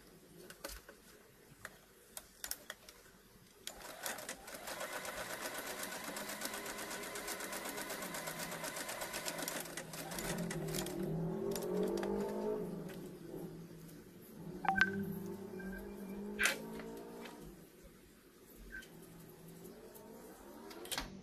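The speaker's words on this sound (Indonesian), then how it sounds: "ini kita jahit bolak-balik" A sewing machine stitches a cloth face mask back and forth, running in bursts of rapid ticking needle strokes with pauses and handling clicks between passes, close and moderately loud.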